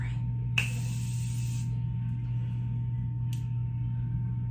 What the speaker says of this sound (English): spray my face with this